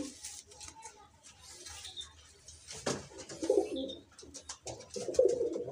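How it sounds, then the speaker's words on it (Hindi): A Punjabi pigeon gives low, throaty coos in two short bouts, close by, amid light rustling and faint background noise. "ये दरअसल पंजाबी कबूतर है"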